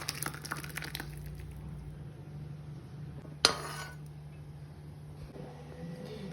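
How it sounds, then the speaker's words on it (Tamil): Rasam poured from a cooking pot into another vessel, with one sharp metallic clink of pots partway through over quiet kitchen background, near and brief. "ரசத்தை இப்போ ஒரு பாத்திரத்துக்கு மாற்றிக்கலாம்"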